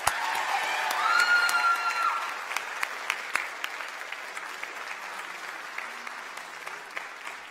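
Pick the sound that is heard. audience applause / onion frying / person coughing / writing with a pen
audience applause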